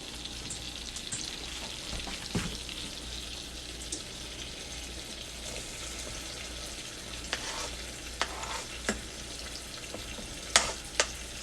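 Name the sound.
onions frying in a pan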